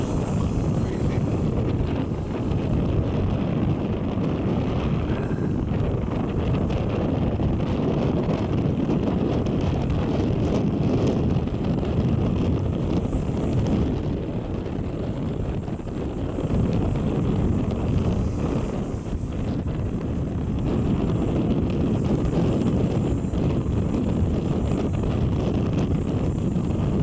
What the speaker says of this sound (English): A little bit breezy this morning. Quite breezy.